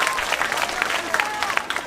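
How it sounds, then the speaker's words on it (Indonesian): Audience applause at a religious talk in a crowded hall, a dense continuous wash of many hands clapping with crowd noise, steady and fairly loud throughout. "Tepuk tangan buat Banser."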